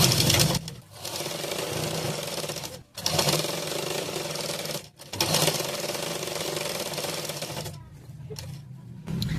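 A sewing machine stitches blouse fabric in three long, loud bursts of rapid whirring, each broken by a short pause, before it stops and then starts again at the end.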